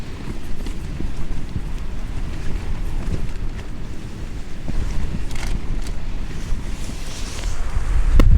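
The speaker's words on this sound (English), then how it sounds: "the wind is bitingly cold" Cold wind blows steadily at a wild camp high in the Glyderau mountains of Snowdonia, a loud, continuous roar buffeting the microphone that swells slightly toward the end, with no voices.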